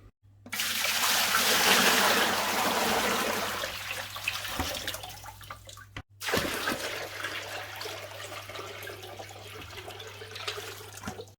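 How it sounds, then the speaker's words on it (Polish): Water pours noisily into a Tunze Comline 3162 aquarium filter, a loud rushing splash for about five seconds, a brief stop, then a steadier trickling flow continuing with a low mains hum underneath. "Zaleję to wodą, zobaczymy jak to hula."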